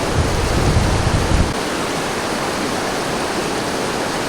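A gigantic waterfall in the Canadian wilderness roars as a dense, constant rush, loud and close, its deep low rumble thinning slightly after the first moment.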